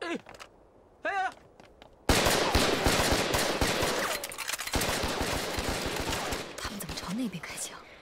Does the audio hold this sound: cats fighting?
no